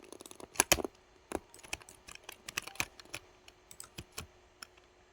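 Computer keyboard keys pressed during a video game, with a sticky walk key forcing play from a second keyboard: close, irregular clicks and clacks in quick clusters, some sharper bursts, over a quiet room.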